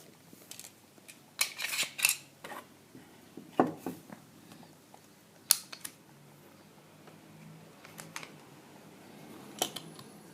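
Metallic clicks, clacks and rattles from an FN Browning Hi-Power Mk 1 pistol being handled during a safety check, in scattered near bursts with quiet gaps between them.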